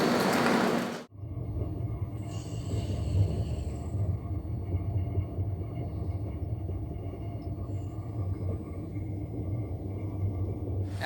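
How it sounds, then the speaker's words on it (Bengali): The Samleswari Express (18005) rolls into Tatanagar station, a steady low rumble of train wheels and carriages that fills the clip after a brief loud burst at the start, with no talk. "আমাদের সমলেশ্বরী এক্সপ্রেস প্রবেশ করলো টাটানগর স্টেশনে"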